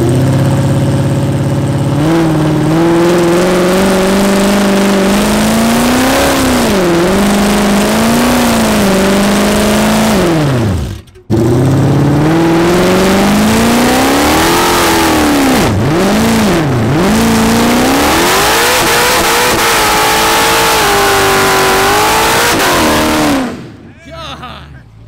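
Car on tires coated with sticky tire glue accelerates hard, its engine roaring loud and close with rising and falling revs through two long bursts split by a short pause, then cutting off near the end.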